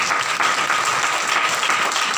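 A church congregation at a Hindi Bible study claps hands together in a dense, sustained wash of applause, loud and continuous throughout with no talk over it.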